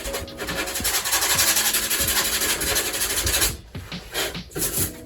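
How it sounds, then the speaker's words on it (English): Rhythmic rasping strokes of sandpaper rubbing over an Almond R Series foam surfboard, loud and close, then a few slower, separate scrapes near the end. "So a quick little sanding"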